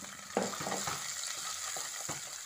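Ginger, garlic and green chilies sizzle steadily in oil in a pan, with a constant hiss and a few soft scrapes and clacks of a spoon stirring, no voices.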